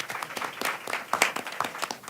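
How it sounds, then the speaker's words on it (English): An audience at a health policy panel on food as medicine claps for a panelist in a brief burst of applause, made of quick individual claps at moderate distance. "Give him a hearty round of applause."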